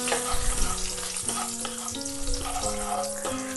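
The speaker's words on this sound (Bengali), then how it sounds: "ফোড়নটাকে আমি নাড়িয়ে চাড়িয়ে নিচ্ছি একটু তেলে।" Dry chillies, bay leaves and whole spices (cardamom, cloves, cinnamon) sizzling in hot oil as they are stirred, a steady close frying hiss with faint scraping, no talk.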